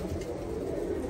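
An Arab pigeon coos low in a coop, a soft throaty murmur close by, heard alone without any voices.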